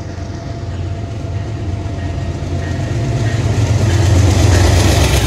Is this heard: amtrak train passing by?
yes